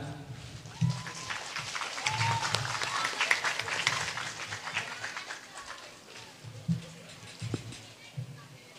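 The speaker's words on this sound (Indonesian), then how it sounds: "tepuk tangan anak-anak." Children at a school assembly in Indonesia clap together in a sustained patter of applause, moderately loud and continuous, with a few sharper bursts and some voices mixed in beneath.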